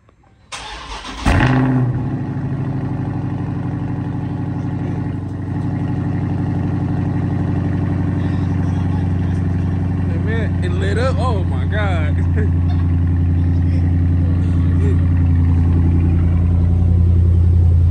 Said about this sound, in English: you starting your car